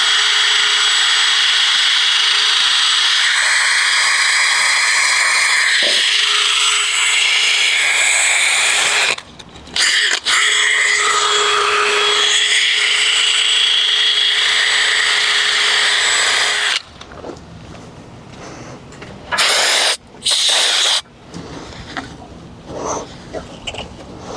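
A power-driven wire brush scrubs out freeze plug holes on an AMC 304 engine block from a 1976 Jeep CJ-5, running as loud close grinding bursts broken by short pauses and a quieter stretch near the end.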